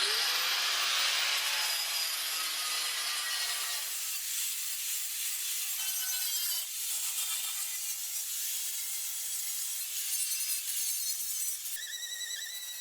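Weld seams around the jacking point of a BMW E30 Touring body are dressed with a grinder, a harsh, close, continuous grinding whine that shifts in pitch as the tool bears down on the metal.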